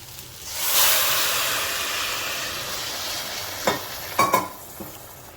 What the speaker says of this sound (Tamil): கறி வேக வச்ச தண்ணியும் நல்லா கொதிக்குது.